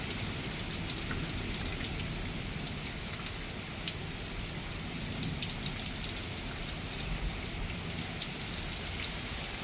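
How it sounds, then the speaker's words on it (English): Steady rain patters on surfaces with a constant hiss and scattered drops; faint thunder rumbles underneath. "you can hear the rain and the thunder"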